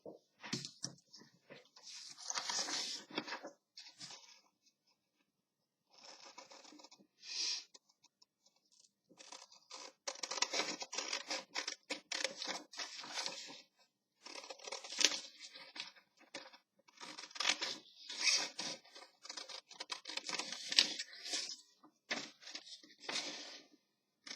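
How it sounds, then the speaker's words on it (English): Scissors cut out a paper pocket for a printable journal kit, making crisp, close snipping and crunching sounds. The cuts come in short bursts separated by brief quiet pauses. "Now I'll go ahead and cut out the other one."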